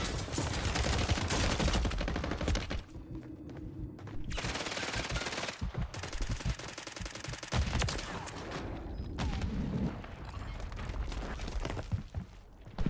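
Rapid automatic gunfire from a COR-45 pistol in a Warzone 3 match on Modern Warfare 3, loud sustained bursts with brief pauses between strings of shots, dense and close throughout.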